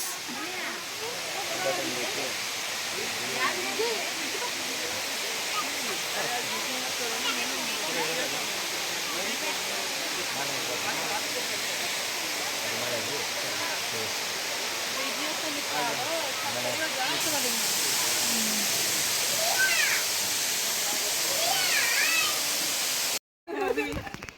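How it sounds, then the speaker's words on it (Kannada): Abbey Falls sends up a continuous, dense roar of rushing water, loud and steady throughout and close at hand, with a brief cut near the end. "ನೋಡಿ ಬಂತು ಅಬಿ ಫಾಲ್ಸ್."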